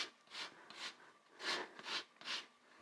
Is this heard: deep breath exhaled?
no